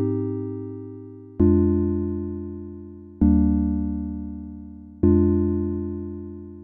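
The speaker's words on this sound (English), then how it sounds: "So first I'll show you how to make this simple synth patch," A simple sine-wave synth keys patch from Massive X plays four sustained chords, each struck cleanly and slowly decaying, with clean tones and no other sound.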